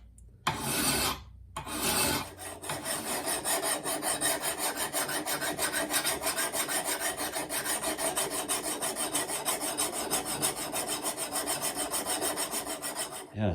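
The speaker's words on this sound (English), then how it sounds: "used a coarse file first and then went over it with a smooth file" Hand file rasping steadily along the edge of a Gransfors Bruks axe, first with a coarse file then a smooth one, in a continuous close, even rhythm after a brief scrape and pause at the start.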